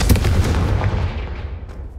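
A Confringo fire spell in the video game Hogwarts Legacy bursts into a loud, booming explosion that rumbles and fades over about two seconds.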